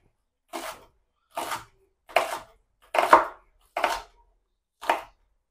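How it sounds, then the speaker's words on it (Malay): A knife chops ingredients for black pomfret sweet and sour fish on a cutting board, six separate crisp strokes about a second apart, close and clear with no talk. "Next, potong kat tengah. Okay, next korang start lah meracik"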